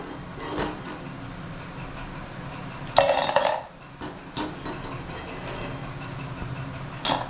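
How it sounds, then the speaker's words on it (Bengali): Fried jackfruit pakoras lifted out of the pan, with a metal utensil scraping and clinking against the pan in a few short bursts over a low background of oil and kitchen noise. "আমার পাকুড়াগুলো ভাজা হয়ে গিয়েছে এর আমি উঠিয়ে নিলাম"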